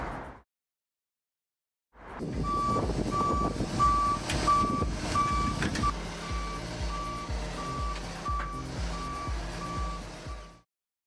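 A UTV Achiever RT-02 digger derrick truck reverses, its backup alarm beeping in a steady, evenly spaced series over a loud diesel engine rumble, with no talking.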